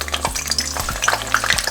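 Garlic cloves, onion and meat for carnitas tacos hit hot lard in a pan on a stovetop, giving a close, steady frying crackle with a few soft thumps of food dropping in.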